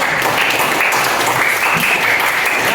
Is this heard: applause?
yes